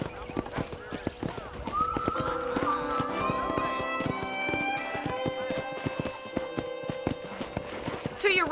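Horse hooves clip-clopping at a steady trot on a ranch in the Red Dead Redemption video game, rhythmic and close, while someone talks over them throughout.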